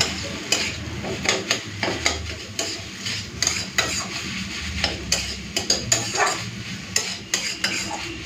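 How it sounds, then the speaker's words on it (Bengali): Banana stem and potatoes are stirred in a pan over low heat, with sugar just added. The utensil scrapes the pan in a steady rhythm of close, repeated strokes over a light sizzle, with no voices. "মিশিয়ে নিচ্ছি"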